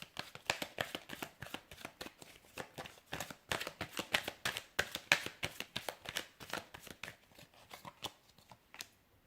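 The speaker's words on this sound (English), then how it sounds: "I'm going to give the cards a shuffle" Tarot cards shuffled on a table by hand, a quick run of crisp riffling flicks and soft slaps repeating in close bursts for several seconds, with no voices.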